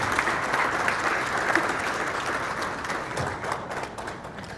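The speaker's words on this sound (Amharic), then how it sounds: "ጭብጨባው፣ ድጋፉ ይቀጥል" An audience applauding at an anniversary celebration event, a dense steady wash of clapping from a large crowd that gradually eases.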